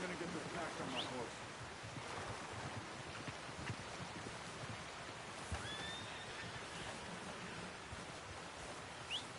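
A horse in a PS4 video game whinnies a few times over a steady outdoor wash of wind and water, with faint voices in the background.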